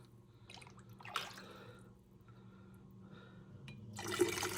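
Chicken broth ladled into canning jars, with soft liquid pours and trickles coming in a few quiet bursts against a low steady background hum.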